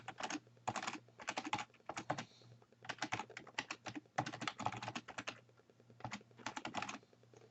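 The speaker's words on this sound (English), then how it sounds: "I'm going to type in FTP colon dash dash" Computer keyboard typing in quick bursts of crisp, close key clicks with short pauses between words, no voice over it.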